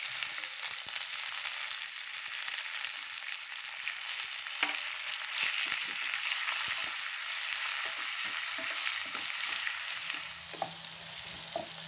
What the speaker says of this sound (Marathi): आपण कांदा छान तेलावरती परतून घेणार आहोत